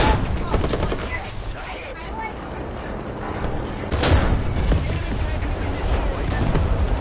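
A tank gun fires high-explosive rounds in War Thunder amid dense, continuous battlefield noise, with a heavier burst around the middle, under steady mechanical rumble and clatter.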